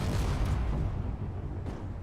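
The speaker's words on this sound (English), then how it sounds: "Explosions everywhere." Heavy, continuous booming explosions fill a chaotic Space Engineers firefight with weapons fire and vehicles, a dense rumbling wall of blasts without pause across the whole stretch.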